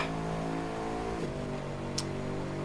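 Steady car engine held at full throttle while driving along a wall in the racing game The Crew 2, a continuous droning hum with a brief pitch drop midway and a short scrape near the end, alone.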